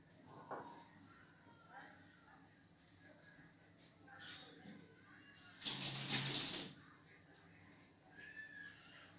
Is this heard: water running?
yes